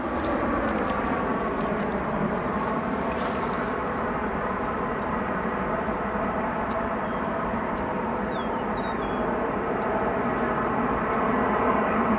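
A steady, loud jet engine roar from an American Airlines Boeing 737 in Retro Air Heritage livery at O'Hare International Airport, holding a constant broadband drone throughout with faint bird chirps above it.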